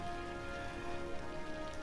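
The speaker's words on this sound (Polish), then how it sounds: "tylko już pada deszcz i trochę tego nie widać" Steady, even video game rain patters continuously over a low hum, with no voices, a constant wash of falling drops.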